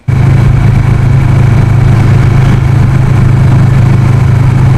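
Kawasaki Vulcan S motorcycle fitted with an Arrow exhaust, its engine idling with a steady, loud, deep rumble that starts abruptly and holds constant throughout, close to the microphone.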